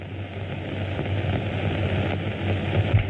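A propeller airplane engine drones steadily in flight, a constant low rumbling hum with no talk.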